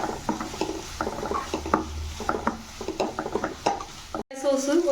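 Cauliflower is stirred in a pan with rosemary, giving a rhythmic series of scraping, clinking spoon strokes over a soft sizzle, close and moderately loud, broken by a short gap near the end.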